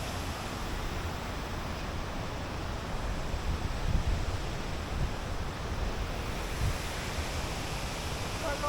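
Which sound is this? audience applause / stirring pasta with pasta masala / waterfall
waterfall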